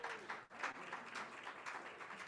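Faint, thin applause and scattered clapping from a small audience at a weekly meeting, steady and distant throughout without any loud peaks.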